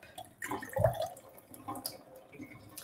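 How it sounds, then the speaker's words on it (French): A small rear tap on a water filter machine spits out the filtered-off waste water, giving a brief close splash and trickle followed by faint drips. "il y a le petit robinet derrière, je ne sais pas si vous le voyez, qui recrache l'eau avec tout ce qui a été enlevé"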